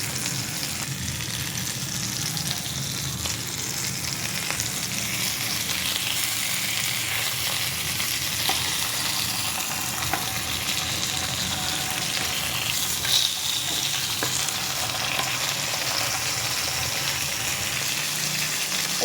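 Frozen hilsa fish fries in a pan with a steady, dense sizzle that goes on without a break, close and fairly loud, with only faint handling noises over it.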